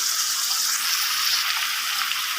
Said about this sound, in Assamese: মাংসৰ পৰা পানী ওলাইছে, অকণমান ভাজি কিনে ইয়াত বাকী মছলাবিলাক দি দিম